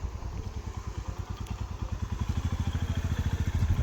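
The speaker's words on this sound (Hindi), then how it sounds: "देखो आए दूसरा ड्यूक लेके आया" A KTM Duke motorcycle rides up in the Manali mountains, its engine throbbing in a fast, even pulse that grows louder and steadier as it approaches, with no speech.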